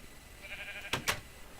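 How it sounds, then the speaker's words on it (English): A sheep in the Minecraft FTB Resurrection modpack bleats twice in quick succession, short and moderately loud over a quiet background hum. "So I'm just keeping that sheep in there for later."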